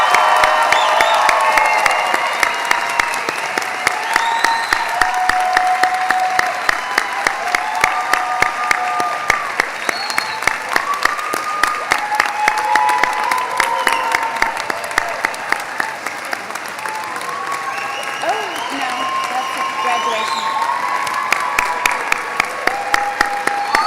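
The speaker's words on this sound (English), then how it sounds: "one more round of applause to these amazing graduates" A graduation audience at a spring Master of Social Work pinning and hooding ceremony applauds loudly and steadily for the graduates, with occasional cheers and whoops mixed into the clapping.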